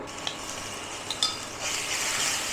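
Raw chicken going into hot oil with golden garlic and green chilli in a pan, for coriander chicken momo filling; a steady close sizzle with a few light clinks swells louder about halfway through.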